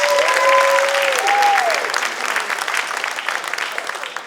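Applause from the audience at a theater critics' awards ceremony in Hartford, loud and full at first, then slowly thinning, with a few brief sliding tones sounding over the clapping early on.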